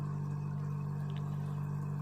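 Engel rechargeable live bait air pump rattles against a cooler, giving a faint, steady buzzing hum with a low resonant drone and no breaks.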